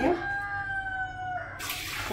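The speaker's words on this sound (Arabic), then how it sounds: "نحط كوبايه ميه" A glass of water poured into a cooking pot, a short, close gush of water with a rising ringing tone, followed by a brief splash.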